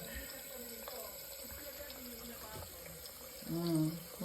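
Tap water runs steadily into a sink while a cat plays in the stream, a continuous close splashing wash that swells louder near the end, with a person talking over it.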